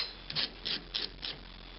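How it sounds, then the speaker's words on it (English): Sandpaper lightly rubbed over a small collar to smooth sharp edges, four short scratchy strokes in a loose rhythm, close and soft with no voices. "sandpaper I have here and just very lightly sand it to take off any sharp edges so we don't score up our wheels"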